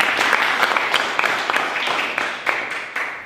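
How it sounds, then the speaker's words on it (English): Audience applause fills a room at a talk or interview event, a steady dense wash of clapping with sharper individual claps popping out, fairly loud and continuous throughout. "I don't know why I'm getting all applause anyway"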